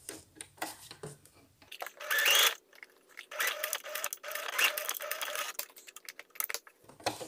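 A sewing machine stitches a fabric protective mask that has a filter pocket, in several close, whirring bursts separated by short pauses and handling noises.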